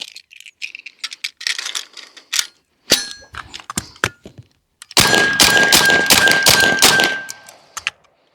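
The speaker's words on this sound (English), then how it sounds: "Six rounds goes so quick with these guns." A Bin Tac s45 457 carbon semi-auto air cannon fires a quick string of loud, sharp shots with mechanical clanks between them, ending in a dense burst of rapid reports.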